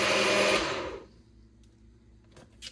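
A personal blender whirs loudly as it mixes a shake, running for about a second before cutting off, followed by faint clicks and a plastic tap.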